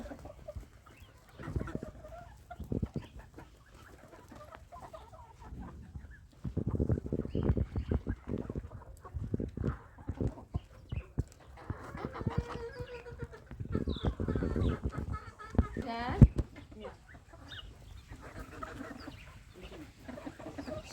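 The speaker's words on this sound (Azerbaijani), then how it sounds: "İçində Xarkov da var, Yubiley də var, Avstralov cücələri də var." Kharkov, Yubiley and Australorp chickens cluck and chatter in a busy, irregular stream, with occasional louder bursts from the flock and little or no talk.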